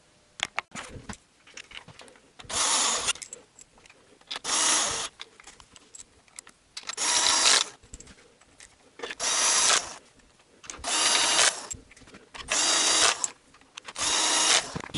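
A power tool tightens the oil drain bolt on a Honda CVT transmission in a series of short whirring bursts, about six spaced pulls a couple of seconds apart, close by with quiet workshop gaps between.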